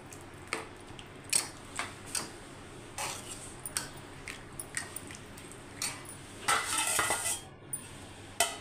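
A spoon stirring potato and chana dal curry in a metal pot, with irregular scraping clinks and knocks against the pot's sides, close and distinct, ending in a brief flurry of rattling contacts.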